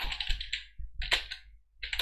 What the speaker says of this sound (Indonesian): Kita bisa ketik di sini misalnya